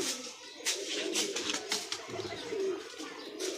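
Soft pigeon coos repeat several times against a steady background murmur, fairly close and moderately loud.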